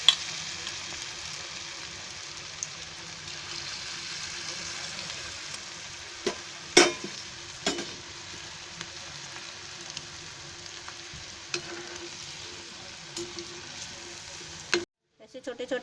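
Small cabbage Manchurian fritters deep fry in hot oil with a steady, close sizzle and bubbling, broken by a few stirring clinks and scrapes before it abruptly cuts off.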